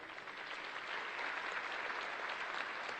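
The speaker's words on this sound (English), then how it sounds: "they deserve a round of applause" An audience at a Department of Correction graduation ceremony applauds with steady, continuous clapping, heard at moderate distance and fairly quiet, with no talking over it.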